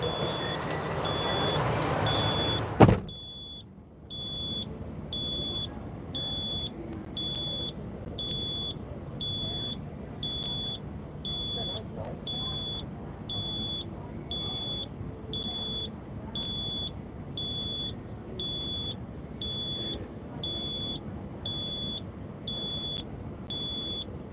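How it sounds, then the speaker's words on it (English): A car's low tire pressure warning beeps steadily in a regular rhythm, high and clear over low rumbling road and engine noise, after a brief loud burst at the start. "What's that beeping? That's the tire warning that we got low air pressure."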